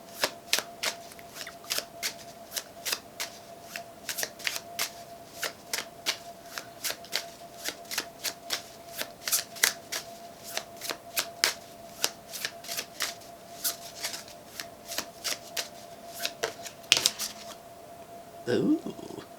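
Tarot cards are shuffled in quick, crisp riffling bursts, dozens of sharp flicks in a steady rhythm, close and fairly quiet, with a faint handling sound near the end.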